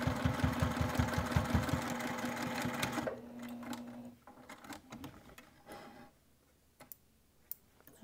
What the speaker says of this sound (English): I pivot, and I'm going to go back right down over that stitching.